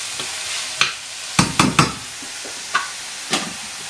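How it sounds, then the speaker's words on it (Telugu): Sliced onions with salt frying in a pan, soft sizzle under a few distinct stirring scrapes and clinks spaced irregularly, close and without speech. "ఇప్పుడు ఒకసారి బాగా కలిపేసుకుంటే ఆనియన్స్ తొందరగా ఫ్రై అవుతాయి"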